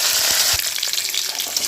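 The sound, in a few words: curry leaves frying in oil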